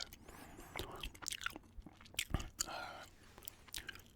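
Close, quiet gum chewing with soft wet smacks and crunchy bites, steady and irregular, with faint breathy whispering mixed in.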